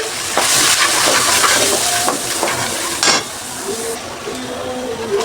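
Turmeric, chili and coriander powders hit hot oil with sautéed ginger and garlic, giving a steady close sizzle and frying hiss with a few spoon stirs and scrapes against the pan, and no talking.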